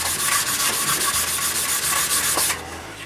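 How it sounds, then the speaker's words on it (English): A cloth or pad wipes a coat of varnish over shellac-sealed wood on a wooden organizer, producing a continuous close-up rubbing hiss that stops abruptly near the end. "When the shellac is dry, I can wipe the first coat of varnish."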